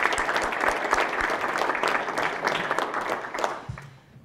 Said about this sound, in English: So a round of applause to all of those good folks.